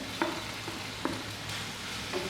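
Paneer cubes tossed into a hot pan for restaurant-style chilli paneer, a steady soft sizzle with a few sharp scraping stirs of a spoon, close and unaccompanied by talk.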